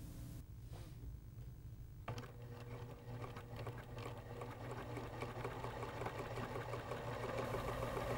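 Pfaff 2014/2022/2024 sewing machine running continuously while sewing ribbing to a neckline, a steady fast mechanical whir and needle chatter, close and even throughout with no voices.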